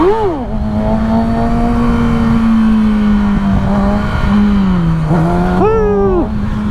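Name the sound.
Kawasaki ZX6R motorcycle riding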